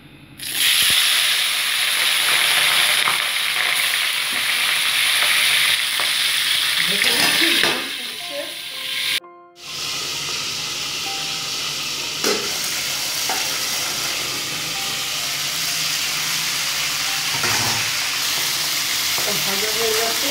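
Boal fish pieces fry in hot oil with a loud, continuous crackling sizzle, interrupted by a short gap, then settling into a steadier hiss with occasional utensil knocks.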